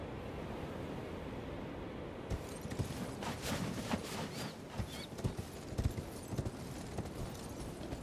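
A riding mount's hoofbeats in the Elden Ring video game clop in an uneven, fairly quiet rhythm over a steady wash of wind-like ambience.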